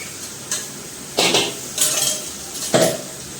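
Thick coriander chutney and green vegetable bhaji being stirred in a metal pot, with a few separate bursts of spoon scraping and clinking against the pan, fairly close, no voices.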